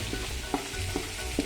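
An onion mixture for chicken mandi cooks on a low flame, giving a soft continuous sizzle with a few light stirring clicks over a short stretch.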